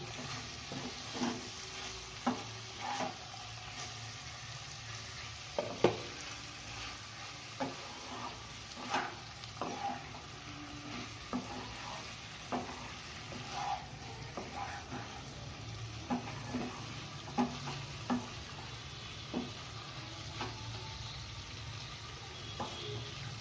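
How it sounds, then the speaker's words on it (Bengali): Cauliflower with a quarter spoon of garam masala is stirred in a pan, a spoon scraping in steady irregular strokes over a soft sizzle, close and alone. "কোয়ার্টার চামচ গরম মশলার গুঁড়ো দিলাম, দিয়ে একবার ভালোভাবে আবার মিশিয়ে নেব"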